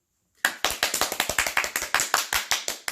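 A single person's hands clapping close by, about twenty sharp, crisp claps in quick, slightly uneven rhythm starting after a short silence, with no talk over them.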